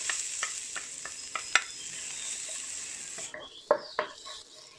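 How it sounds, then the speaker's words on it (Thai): Garlic stir-fries in hot olive oil with a steady bright sizzle, and a utensil scrapes and taps the pan in uneven strokes. Near the end the sizzle suddenly drops away, leaving a few louder clinks. No one speaks. "นี่นำกระเทียมลงไปผัดเลยนะคะ"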